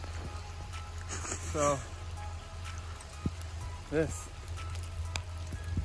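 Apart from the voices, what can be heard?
hail falling outside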